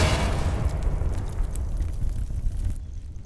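In the Hogwarts Legacy video game, the Confringo explosive spell lands as a loud, rumbling fiery blast with a roaring burst of noise that fades into a crackling tail before cutting off.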